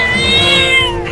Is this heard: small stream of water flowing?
no